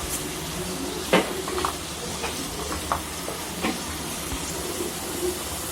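Tomatoes and brinjal sautéing in a pan for kara kuzhambu, a steady sizzle under repeated scraping and clinking of a spoon against the pan, close and moderately loud, no talking.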